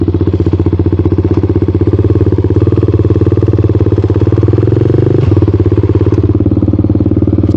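A pit bike rides through the race pits at Gainesville Raceway during the Gatornationals, its small engine chugging steadily and loud up close, with the pitch shifting slightly as it moves along.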